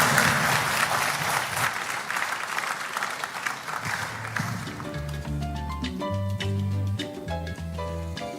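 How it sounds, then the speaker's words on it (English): A full round of applause at Ghana's National AI Strategy launch welcomes Samuel Nartey George, dense clapping that tapers as music with a pulsing beat and bass notes rises and takes over halfway through. "Please welcome him with a round of applause."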